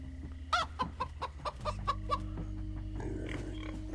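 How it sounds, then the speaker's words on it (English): A chicken in Minecraft Story Mode, the video game, gives several sharp clucks in quick succession over a steady game music drone, then the clucking fades into background ambience. "Ah, chicken!"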